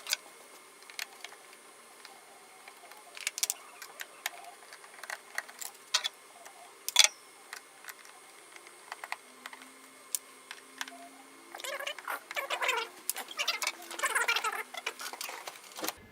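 Front panel screws are removed from a HAPSITE ER instrument, heard as faint, close, scattered ticks and small clicks of a screwdriver on metal, with busier rustling handling sounds toward the end.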